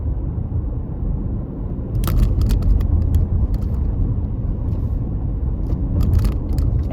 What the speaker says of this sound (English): let's go ahead and just give this a nice, smooth acceleration